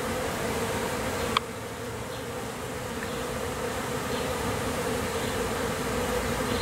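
A honey bee swarm streams into a new hive close by, making a dense, continuous buzzing drone that stays steady and loud throughout.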